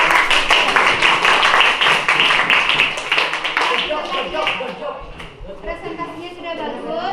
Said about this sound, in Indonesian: Mari kita berikan aplaus dulu untuk